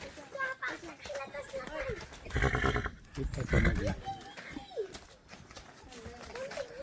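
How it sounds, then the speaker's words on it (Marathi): A horse, one of several kept for dancing at weddings, whinnies loudly twice in quick succession, close by, amid ongoing conversation. "इथे हे घोडे आहेत तर इथं चार घोडे आहेत"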